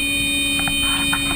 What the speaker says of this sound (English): Suddenly, the alarm sounds.